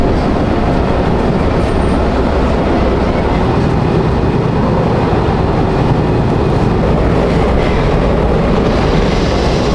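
Loud continuous rumble and rattle inside an old moving train in Chicago, steady and unbroken with no voices.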